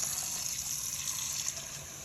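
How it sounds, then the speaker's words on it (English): Water pours steadily into a fountain base for a citric acid soak, a continuous, fairly loud hissing flow with no pauses throughout. "Then we'll fill it up with water up above the little scum line there."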